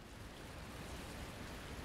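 Steady rain in The Bus driving game, a dense, even hiss of downpour filling the whole stretch at moderate level with no breaks or voices.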